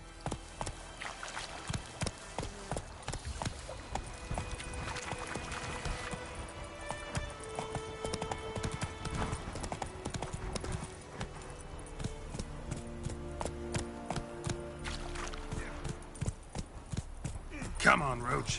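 Geralt's horse Roach gallops in The Witcher 3, a fast, steady run of hoofbeats under a swelling orchestral score, with a voice calling out over the music.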